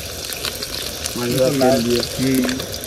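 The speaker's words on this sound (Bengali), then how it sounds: "আবার যদি বড় মাছের ডিমও ভেজে দিচ্ছি" Fish frying in a pan, a close, continuous crackling sizzle, with a voice talking over it partway through.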